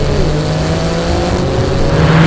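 A BMW performance car accelerating hard on a drag strip at a racing circuit, a loud, sustained engine roar close by with a slowly rising tone throughout.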